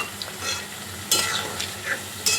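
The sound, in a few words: kofta curry gravy with cashew paste being stirred in pan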